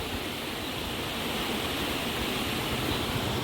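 Rushing floodwater in a stream after heavy rain, a dense continuous roar of water, loud and close, with no voices.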